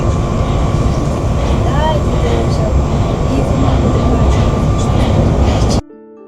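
Moscow Metro station on Line 5, with a train running through: a loud, steady rumble and rush of wheels and machinery filling the station, plus faint squeals, lasting several seconds before cutting off abruptly.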